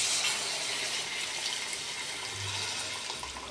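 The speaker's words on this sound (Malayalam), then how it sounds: "അതിലോട്ട് ഞാൻ വാളംപുളി പിഴിഞ്ഞ് അതിൻ്റെ നീര് കുറച്ച് ഒഴിക്കാൻ പോകുന്നു" Squeezed tamarind juice is poured into a simmering bitter gourd curry, making a soft, continuous watery splashing and trickling sound that lasts a few seconds with no voices.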